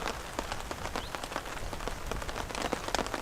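Steady rain pattering onto the surface of a pond outdoors during a rainstorm, a dense continuous hiss of drops with sharper individual splashes scattered throughout, fairly close and alone without any voices.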